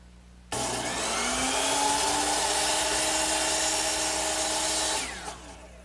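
A power saw cuts an angled cove section of a wooden Chippendale mirror frame: the motor starts abruptly into a loud, steady whine as the blade bites through the wood for about four seconds, then winds down.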